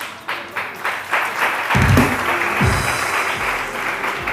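Studio audience applause on a Pakistani morning TV show, a few scattered claps swelling into a dense, steady burst of clapping that holds at even loudness with some low rumbles underneath.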